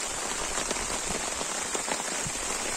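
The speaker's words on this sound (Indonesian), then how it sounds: "Cuman kondisi ini hujan ini." Steady rain hisses down on a garden, a dense constant patter with no voices, moderately loud throughout.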